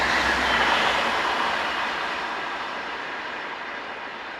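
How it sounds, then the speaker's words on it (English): A train hauled by diesel locomotive 218435, bound for Füssen, rolls past with a broad rushing roar that slowly fades as it recedes into the distance. "This is 218435 with a train for Füssen."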